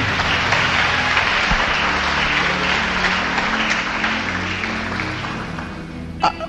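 A church congregation applauds at a service, a dense, steady wash of clapping that holds loud and continuous throughout, easing slightly toward the end.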